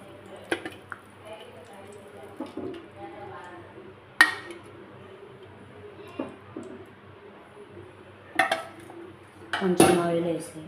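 A pan set down on a stove and cooking oil poured in for chicken fry, heard as scattered metallic clanks and clinks with a sharp knock, under someone talking throughout in Telugu.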